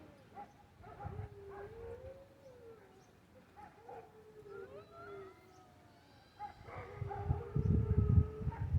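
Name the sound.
dog howling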